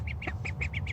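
Around six short, faint duck quacks come in a quick, evenly spaced series during bath time, each a brief nasal burst over a low background hum.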